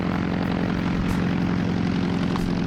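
A steady, close propeller-engine drone holds a low humming tone throughout, with no pauses and no voices. It comes from an amphibian seaplane with retractable wheels at Black Rock City Airport.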